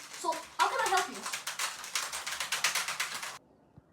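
Rapid keystrokes clatter on a computer keyboard in a store, a quick run of crisp clicks that follows a brief burst of talk and then stops abruptly.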